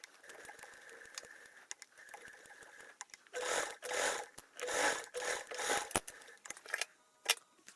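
A sewing machine stitches a fabric flap bag, crossbody style: a soft whir at first, then several loud, rapid stitching bursts in the second half, with short pauses between runs and no talking.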